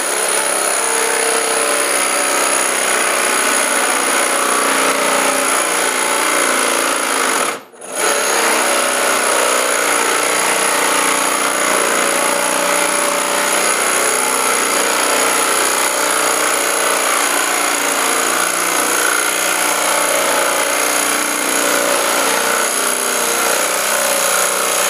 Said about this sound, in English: This is oak and it's kind of hard with the spade.